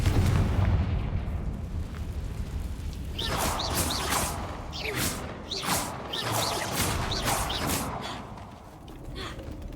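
Confringo fire spells blasting during a fight with Ranrock's loyalists in Hogwarts Legacy: a string of loud, sharp bursts from about three seconds on, each cracking and rumbling over a busy, noisy combat background.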